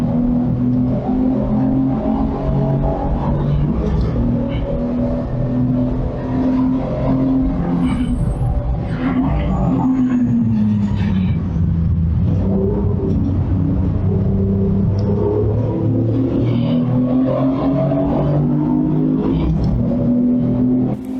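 A race car engine roars steadily at close range throughout a 750 Motor Club Roadsports race at Snetterton, holding loud sustained drone with shifting pitch as revs rise and fall, with no talk.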